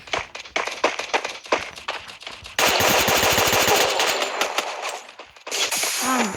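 Rapid video game gunfire crackles in bursts, first as scattered quick shots, then a dense continuous barrage, and finally a sharp burst with a whooshing effect, all loud and close with no talk.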